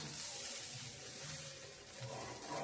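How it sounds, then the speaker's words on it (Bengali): Hot water poured into a pot of vegetable khichuri, a soft, steady rushing splash that swells slightly and stays faint and continuous throughout. "এখন আমি দিয়ে দেব জল জলটা অবশ্যই আপনারা গরম জল দেবেন"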